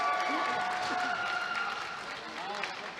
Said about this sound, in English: And some applause is occurring in the stands